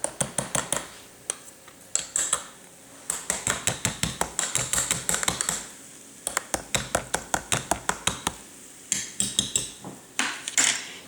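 A spoon clinks rapidly against a bowl while stirring a risen, foamy yeast mixture for homemade bread: bursts of quick, sharp, close metallic taps with short pauses between them.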